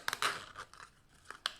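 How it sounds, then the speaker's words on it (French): A recycled zipper being opened during a bottle-bottom pouch craft project gives a few short dry scratchy rasps and clicks at close range, quiet and uneven, with no talking. "Pour le deuxième, on va ouvrir notre fermeture éclair."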